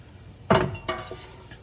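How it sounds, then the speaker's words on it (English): A spoon stirs a potato, chickpea and squash curry in a pot, giving one sharp scrape-and-clink against the metal followed by a softer second knock and faint trailing clatter, close and otherwise quiet. "Give it a stir"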